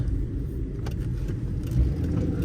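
A supercharged Subaru Pleo engine drones steadily from inside the car while driving, a low continuous rumble with small surges, close and moderately loud, with no talk.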